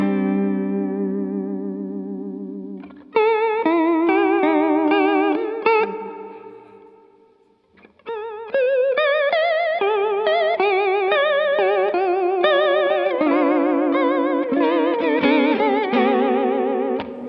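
Heavily processed electric guitar tones, warbling and wobbling with distortion and chorus-like shimmer, alone and loud, shifting through several strange textures with brief pauses.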